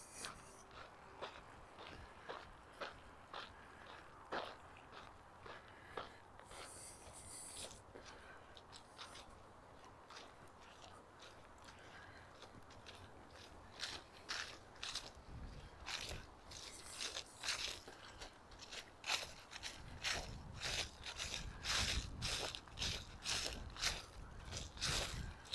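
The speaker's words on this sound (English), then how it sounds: "Some leaf crunching while we're at it." Footsteps crunch through dry fallen leaves on an October walk near the University of Regina campus in Regina, giving a steady rhythm of close, crisp rustles that grow louder and denser toward the end.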